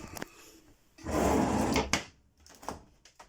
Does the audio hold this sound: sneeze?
no